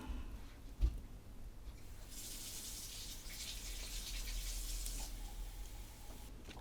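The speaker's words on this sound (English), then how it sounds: "Can hear the stuff bubbling on the other side of the board." Corrosion-cleaning liquid fizzes and bubbles on an Xbox One S circuit board, a faint, steady hiss-like bubbling with a sharp click near the start, close by and without talk.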